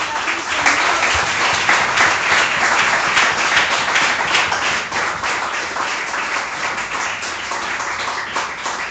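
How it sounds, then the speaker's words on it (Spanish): Loud, dense congregational applause fills a church service, steady clapping from many hands heard close for about nine seconds before easing slightly. "Un aplauso a Jesucristo, Señor."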